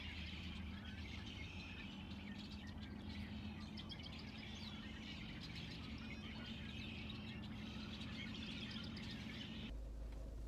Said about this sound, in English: Did you hear all those birds?